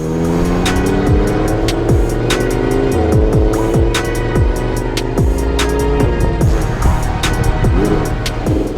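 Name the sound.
Audi R8 V10 car driving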